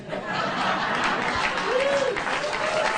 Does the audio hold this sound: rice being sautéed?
no